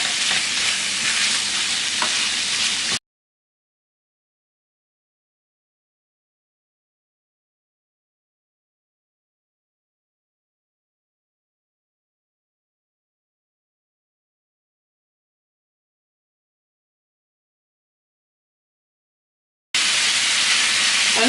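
Pork filling for spring rolls fries over medium heat, giving loud, dense sizzling for about three seconds, then a long silence before the sizzle returns at the end.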